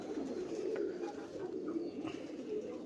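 Soft, low coos from a teddy pigeon, part of a pair offered for sale, sound faintly and repeat in a gentle rolling rhythm against a quiet background.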